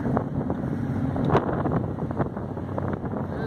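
Wind buffets the open deck of a ferry crossing from Germany to Denmark, a steady broadband rush with gusty swells and the low drone of the ship beneath, loud and close throughout.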